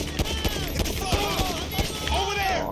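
Rapid gunfire in GTA V during a repossession mission, a string of sharp shots in quick succession under continuous game sound with someone talking over it.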